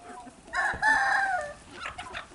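Backyard chickens cluck and squawk close by, a short burst of hen calls rising and falling over quiet ambience.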